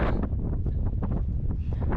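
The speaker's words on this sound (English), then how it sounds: "Wow, that got windy all of a sudden." A sudden strong wind in Paria Canyon buffets the microphone in continuous rumbling bursts, with a roaring gusty texture throughout and no voices.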